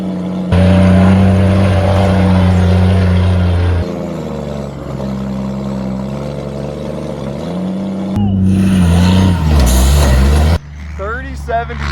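A 30,000-pound military truck drives offroad on a timed course, its heavy diesel engine droning loud and close, surging and revving as it climbs. Air-brake hisses and clanks follow near the end.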